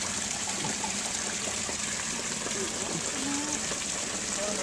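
Pond waterfall flowing steadily, a constant broadband rush and splash of water with no breaks, fairly close and even in level throughout.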